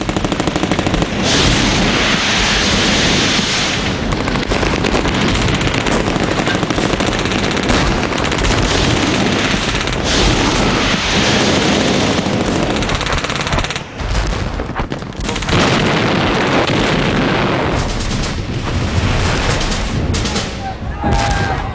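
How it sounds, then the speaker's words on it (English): Dense, continuous gunfire and machine-gun bursts with heavy booms from explosions in WWII Pacific island battle footage on Kwajalein and Namur. The firing stays loud and chaotic throughout, and a narrating voice runs underneath. "US forces used flamethrowers and explosives"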